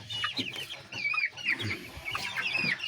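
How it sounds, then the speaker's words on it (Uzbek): A fighting rooster of a champion breed clucks and gives short strained crow-like calls, close by and repeated in quick bursts over a low farmyard background. "Katta davralarda davra suradigan xo'roz bo'ladi bular"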